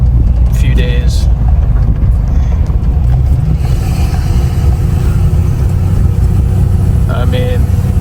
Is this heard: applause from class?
no